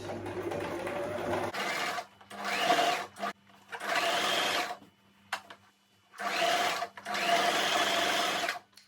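A sewing machine stitching fabric for a gathered ruffle turban hat runs in three or four loud, close bursts of rapid mechanical whirring, separated by short pauses.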